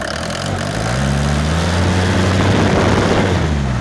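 A motor pump's loud engine runs steadily, its low hum rising in pitch as it revs up and then settles back slightly.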